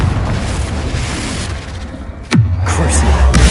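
A Confringo fire-blast spell bursts in Hogwarts Legacy, a sharp whooshing swoop into a loud booming explosion, with rumbling combat noise before and after.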